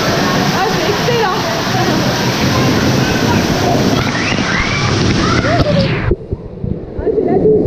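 Heavy water pouring down over riders on a river ride at La Baie des Pirates water park, a loud roaring close cascade throughout, with voices talking over it until it abruptly drops away near the end.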